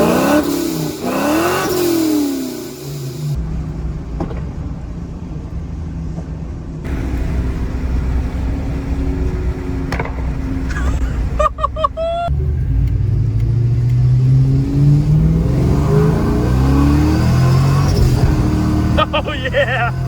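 A 1999-2004 Ford Mustang GT V8 fitted with long tube headers revs repeatedly, its deep exhaust rumble rising and falling loud and close, with voices talking over it at times.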